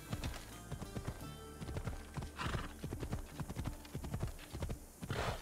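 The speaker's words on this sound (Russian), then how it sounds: "Лошадка тут отлично просто." Horse hooves clip-clop in a steady, brisk rhythm throughout Assassin's Creed Odyssey gameplay, fairly close and clear, with a brief whinny-like sound partway through.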